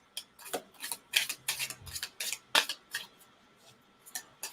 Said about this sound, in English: Y'all know how much I shuffle.